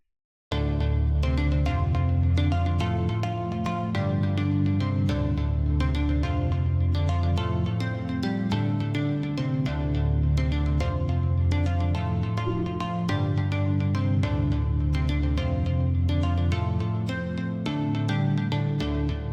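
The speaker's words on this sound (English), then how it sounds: "this is the piano pattern for the first main section" Piano pattern with a sustained background note over a simple chord progression, a steady, full and continuous texture with a low bass, with no voices over it.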